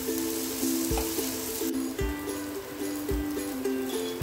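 Marinated vegetables roast in butter on a tawa with a steady close sizzle, while soft rhythmic knocks repeat about once a second over a faint background hum.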